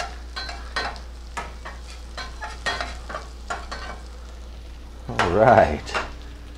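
Hash browns frying in a pan, a soft sizzle broken by repeated scraping and tapping of a utensil, followed near the end by a brief louder burst of handling and a short spoken remark.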